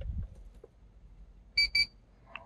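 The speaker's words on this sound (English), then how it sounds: "You hear that beep?" A 2003 Acura MDX key remote gives two quick, high electronic beeps close by, in a near-silent car interior with a faint low rumble.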